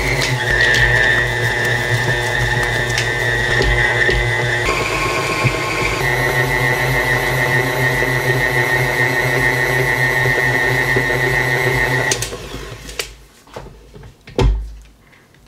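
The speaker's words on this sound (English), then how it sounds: "I'm going to let this mix on medium high until it comes away clean from the sides" A stand mixer beats butter into hamburger bun dough at medium-high speed, a loud, steady motor whine with a rhythmic thumping that runs for about twelve seconds, then winds down and stops with a few clunks.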